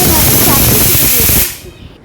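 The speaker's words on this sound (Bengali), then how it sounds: "আমার মতন যাদের হাতের সময় খুবই কম তারা এইভাবে প্রেসার কুকারে করে সিটি মেরে নেবেন।" A pressure cooker cooking mutton curry vents a loud, steady rush of steam for about a second and a half, then cuts off abruptly into quiet.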